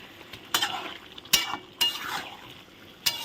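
Ground spice paste sautéed together in a pan for a meat curry, with a few sharp scraping stirs of a spoon against the pan over a soft sizzle. The strokes come in separated bursts and sound close and moderately loud.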